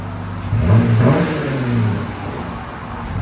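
A Jeep Gladiator's 3.6L V6 with the muffler removed revs up close by, a deep, loud exhaust rumble that swells and then settles into a steady throaty idle.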